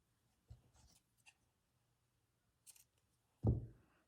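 Scissors trim the edge of a fabric panel on a fabric-covered box, giving a few short, close snips with quiet pauses between and a firmer final cut at the end.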